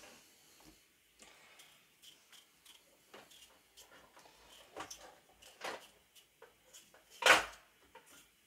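Pots and pans are handled in the background of a home kitchen while a cheese and potato pie is made, heard as faint, scattered clinks and knocks with one louder clatter.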